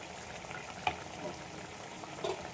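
Ghee added to a pan of banana flower curry, a faint, low sizzle with a soft clink near the start and light stirring scrapes toward the end.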